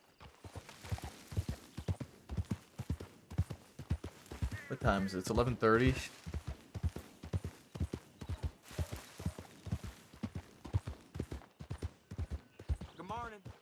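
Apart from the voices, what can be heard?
horses walking, hooves clip-clop, video game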